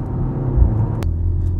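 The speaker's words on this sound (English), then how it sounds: "So 2-litre 4-cylinder engine, 300 horsepower" BMW M135 with a 2-litre 300-horsepower four-cylinder engine accelerating on a greasy road, a steady loud low rumble with a brief whoosh partway through.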